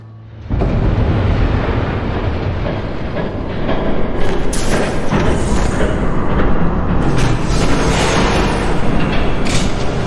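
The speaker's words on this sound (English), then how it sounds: "There's a train coming." Loud, continuous rumble of a train approaching in Batman: The Telltale Series, a heavy roar that swells and intensifies partway through and holds steady to the end.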